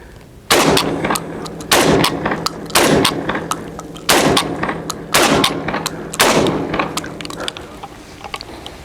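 Shotgun blasts ring out at a shooting range, six loud, sharp reports spaced roughly a second apart, each with a ringing echo that decays before the next shot.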